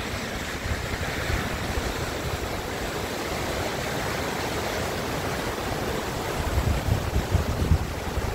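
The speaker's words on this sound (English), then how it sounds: "That's flowing fast, isn't it?" Fast-flowing stream water in Settle, Yorkshire, a steady, dense broadband rush heard continuously throughout with no talk over it.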